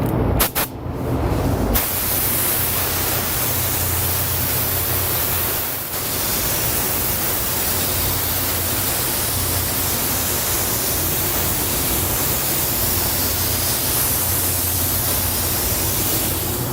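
An Iwata LV-WBX sealer gun sprays Createx black sealer paint in a booth, a loud steady hiss of atomized spray that runs unbroken after a brief start, close up and alone.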